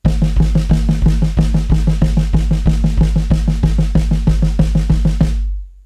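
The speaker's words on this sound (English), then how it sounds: "Or the double stroke roll." Drum kit playing a double stroke roll on the snare against a steady repeating bass-drum foot ostinato, close and loud with an even pulse before cutting off.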